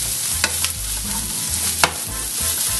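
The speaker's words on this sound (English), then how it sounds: "Onions should start sizzling right away." Onions sizzle and crackle in a hot pan, with a few sharp clicks of stirring cutting through the steady frying hiss.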